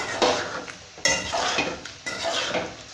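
A metal spoon scrapes and clinks against a pan in three distinct stirring strokes while spices are stirred for tomato bajji curry, close and fairly loud, with a light sizzle underneath.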